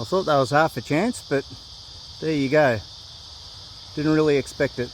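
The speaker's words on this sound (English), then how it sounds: "see if you can hear the cicadas in the background." Cicadas drone in a continuous high-pitched buzz in the background near a railway line, running steadily beneath someone talking in short bursts.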